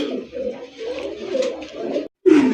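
A pair of racer pigeons coo nearby in a continuous, close, fairly loud murmur that breaks for a moment before resuming.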